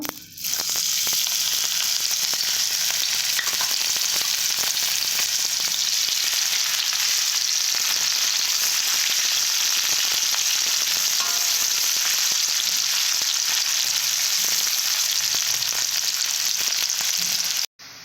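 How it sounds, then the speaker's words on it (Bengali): Onions fry in hot oil with a loud, dense, continuous sizzle that holds steady from start to finish, with no voices. "তেলটা গরম করে নেওয়ার পর আমি পেঁয়াজগুলো ভেজে নেব"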